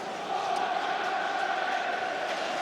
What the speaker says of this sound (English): Villa Park rises to applaud him